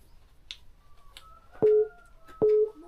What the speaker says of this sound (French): On rejette un appel sur ce téléphone.